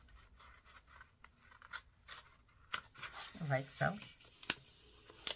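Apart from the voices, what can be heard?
folding a book page in half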